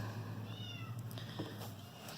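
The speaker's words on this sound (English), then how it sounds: "Cat comes in the room, meows at me," A house cat meows indoors, with a few short, faint meows over a steady low hum of room noise and no talk.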